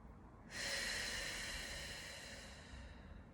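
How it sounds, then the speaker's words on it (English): A single long, hissing breath drawn through the nose and let out through the mouth during a postpartum mat workout, starting abruptly after a short pause and fading slowly, close and quiet, with no talking. "Inhale through your nose, tongue resting on the roof of your mouth. Full breath out through your mouth"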